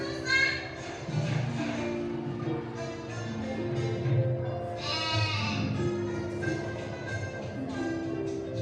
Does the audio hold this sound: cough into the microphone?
no